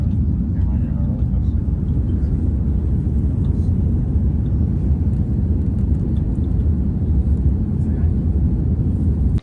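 An airliner on its takeoff roll toward Japan gives off a loud, continuous low engine roar and cabin rumble that holds steady for nearly ten seconds before cutting off abruptly.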